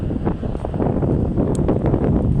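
Steady, loud northeast monsoon wind on a seashore buffets the microphone, a continuous roaring rumble with gusty fluctuations throughout.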